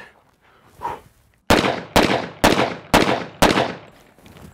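Five loud, sharp gunshots from a double-barrel 1911 pistol ring out in a steady, evenly spaced string at close range, each crack trailing off briefly before the next.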